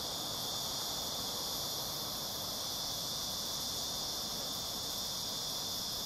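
Cicadas drone in a steady, unbroken high-pitched buzz outdoors under cloudy skies, with no voices or other sounds breaking through.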